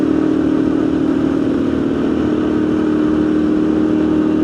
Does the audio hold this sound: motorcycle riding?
yes